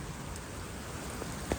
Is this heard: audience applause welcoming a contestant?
no